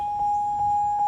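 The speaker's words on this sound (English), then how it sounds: "Sorry about the beeping." Three short, evenly spaced electronic beeps sound in a car cabin, fairly steady and moderately loud, with a faint background hum.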